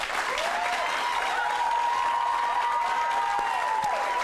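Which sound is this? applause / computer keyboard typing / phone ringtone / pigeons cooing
applause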